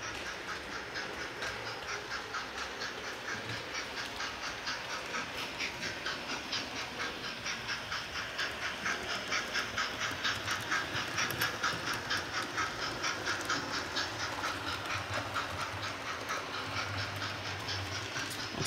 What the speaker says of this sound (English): I've got the sound on at the moment, chuffing away.